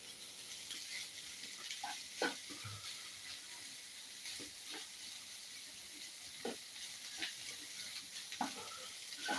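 An egg dish is stirred in a sizzling pan: a steady frying hiss runs throughout, broken by occasional spoon-scrapes and taps every couple of seconds, close and fairly quiet, with no one talking.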